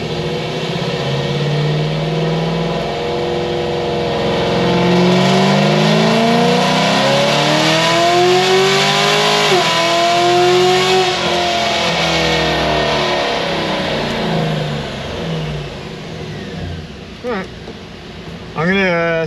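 Boosted car engine on 8 psi and 91 octane fuel revving hard through a 3-4 upshift pull, a loud rising engine note that climbs, shifts and climbs again, with intake and exhaust roar dominating.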